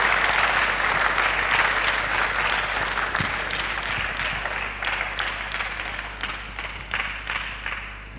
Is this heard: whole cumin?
no